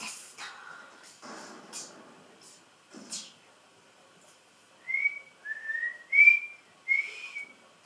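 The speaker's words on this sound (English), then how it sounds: "Can't really whistle." A person attempts to whistle, producing a few short, wavering, breathy tones in quick succession after some talk and rustling, each note thin and unsteady.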